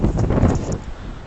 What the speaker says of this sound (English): it's getting windy here because we're facing the ocean now